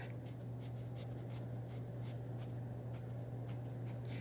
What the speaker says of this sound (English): I have to rotate my pencil because it's hard to get really dark if your pencil tip is not sharp.